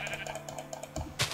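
A Minecraft sheep bleats in short wavering cries under faint keyboard clicks, followed by a brief sharp hit sound at the end.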